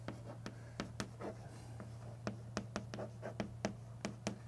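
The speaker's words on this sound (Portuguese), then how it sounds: "Deixa eu escrever aqui" Marker or chalk writing on a classroom board during a plate tectonics lesson, a sequence of short close scratchy strokes and taps in an irregular rhythm over a faint steady hum, with no talking.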